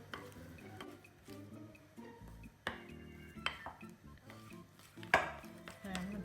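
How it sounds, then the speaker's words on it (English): A spoon or whisk stirs chocolate cake mixture in a bowl, making soft scraping and tapping against the side in an irregular rhythm, close and fairly quiet, with a few sharper knocks. "I'm going to give it a quick stir."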